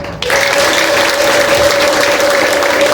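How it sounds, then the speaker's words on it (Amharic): Church congregation applauding, a dense continuous burst of clapping that starts abruptly and holds steady and loud to the end. "ሲልልታና ጭብጨባ ለጌታ"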